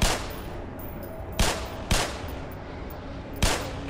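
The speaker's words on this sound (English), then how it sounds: "what happens if I shoot one of these rocks?" Four sharp gunshots from Black Mesa: Xen fired at rocks, spaced irregularly with short echoing tails, loud and close.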